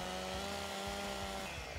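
A chainsaw runs steadily while cutting wood in Farming Simulator 15, a close, dense engine drone with no voices over it.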